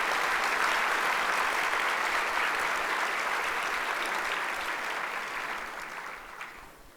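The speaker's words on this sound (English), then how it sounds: "give them all your round of applause" Audience at a 2019 gala breaks into sustained applause, dense and steady before slowly fading out toward the end, with no speech over it.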